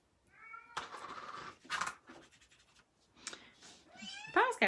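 A house cat meows several times in a row, a string of short, rising and falling cries of varying pitch, fairly close and moderately quiet.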